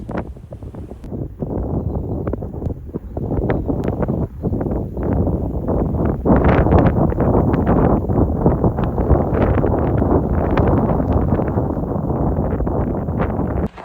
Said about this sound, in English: This is the eye of the crosswinds. They're rushing through the gap in those mountains.